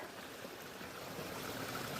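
A backyard garden waterfall pours in a constant, even rush of falling water, steady and unbroken throughout with no voices.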